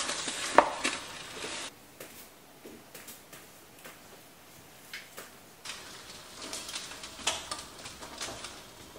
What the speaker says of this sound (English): Gonna do some chopping with these too.